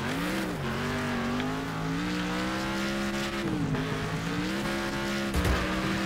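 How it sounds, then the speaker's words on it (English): A car in the racing video game Next Car Game skids with a sustained tire squeal over a revving engine after the handbrake is pulled on a figure-8 track, loud and continuous with pitch shifts. "I accidentally hit the handbrake there."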